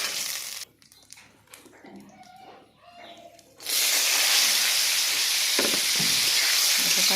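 Boiled jackfruit pieces frying in oil with turmeric and salt: after a few seconds of quiet handling and clatter, a loud, steady sizzle and hiss takes over and continues to the end.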